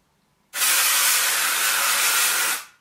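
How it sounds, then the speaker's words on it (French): A single continuous spray of Klorane dry shampoo onto hair, a loud, close, broadband hiss lasting about two seconds that starts abruptly and tails off. "je secoue bien et je vaporise"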